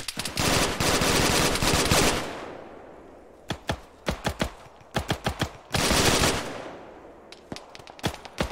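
Automatic gunfire in the combat game ArmA 3: two long sustained bursts separated by rapid clusters of single sharp shots, loud and close with short echoing tails.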